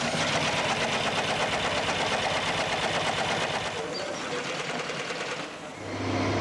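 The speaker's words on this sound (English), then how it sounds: "The bottoms are sewn together on the first machine here, then they go on down the line where the tops are sewn in two different operations." Industrial sewing machines on a factory line stitch the leather panels of Sherrin Australian Rules footballs, a fast steady mechanical chatter that runs without pause and eases slightly near the end.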